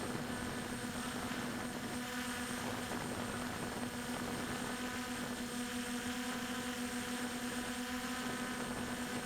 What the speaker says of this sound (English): I'm going to fly it around slowly